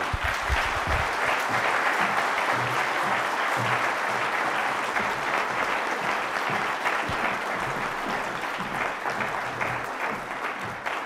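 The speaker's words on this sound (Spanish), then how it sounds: "sabemos dar un aplauso muy cálido" Warm, sustained applause from an audience at a human rights training event in Toluca, a thick continuous roar of many hands clapping, loud and steady throughout with faint low murmurs beneath.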